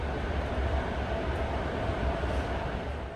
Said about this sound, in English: after a really intense train ride